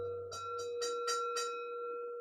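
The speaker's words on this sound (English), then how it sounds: "So when you hear the bell" During a yoga class, a bell rings with a sustained clear tone, overlaid by about five soft repeated strikes or jingles that fade into the lingering resonance, with no talking.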